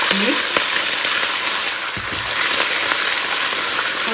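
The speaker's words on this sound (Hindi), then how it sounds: "1 टेबलस्पून जो है अदरक लहसुन का पेस्ट है वो डाल दूँगी। इसको करेंगे हम इसे मिक्स।" Ginger garlic paste fries in a pan for dhaba-style chicken karahi, a loud, steady hissing sizzle with a few faint knocks from stirring.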